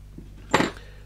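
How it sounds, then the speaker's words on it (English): Sparrows master keys, card-suit marked and taken off a key ring, give a single short metallic jangle as they are handled, fairly close and with no talking. "I've taken 3 of them off the key ring"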